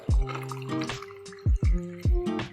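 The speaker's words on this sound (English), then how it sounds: "Pour it up." Cold brew coffee is poured from a French press in short bursts, giving close, bright glugs and gurgles with brief pauses between each splash.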